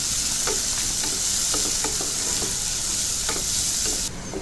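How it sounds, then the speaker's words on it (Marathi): Chopped onion frying on high heat for a lentil dish, a loud steady sizzle punctuated by repeated scraping knocks of a spoon stirring in the pan, close up with no speech. "मोठ्या आचेवरच फ्राय करायचं आहे।"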